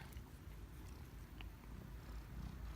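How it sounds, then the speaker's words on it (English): A soft, steady purr rumbles low and close, continuous and faint, with no voices. "Oh, is he purring?"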